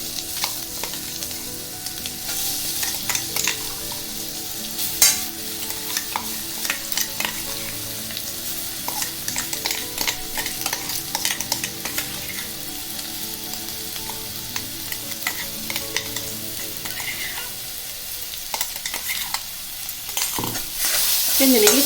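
Ground amla (Indian gooseberry) being stirred and sautéed in a pan for amla rice, with a steady sizzle and repeated scraping strokes of a spoon, close and moderately loud, no talking.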